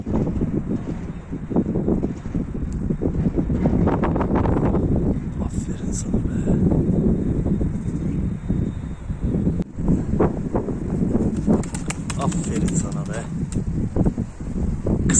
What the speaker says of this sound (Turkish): Yine bayağı rüzgar var her zamanki gibi.